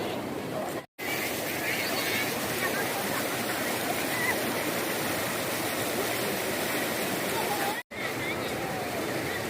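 Huai Chan waterfall, swollen after new rains, pours with a loud, steady broadband rush heard close by, broken by two brief cuts to silence.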